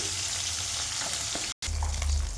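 Tilapia fish pieces frying in hot oil, a dense continuous crackling sizzle with a brief cut and some low stirring or pan rumble, no voices.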